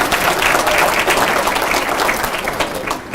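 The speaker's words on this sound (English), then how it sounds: "Let's give him a nice round of applause." Audience applause at a 2019 youth bowling awards banquet, a dense, steady wash of many hands clapping at once, loud and close, holding for the whole stretch and easing slightly at the end.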